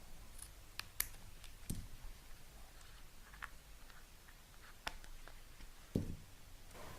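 Scissors trimming the end of fabric laid on a lampshade liner, a series of quiet, sparse snips and clicks spread across several seconds with soft handling noise between them.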